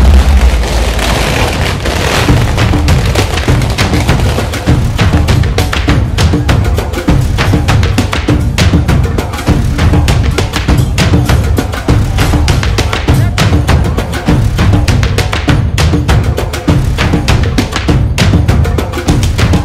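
Firecrackers exploding at the Phuket Vegetarian Festival in Thailand, a loud, relentless barrage of sharp cracks and pops in rapid, irregular succession throughout, dense and close.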